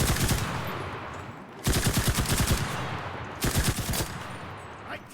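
Rapid automatic gunfire in a video game, loud close bursts of rattling shots, one long volley followed by two shorter bursts with brief gaps between.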